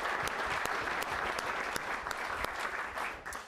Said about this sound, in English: How about a round of applause for these unsung heroes?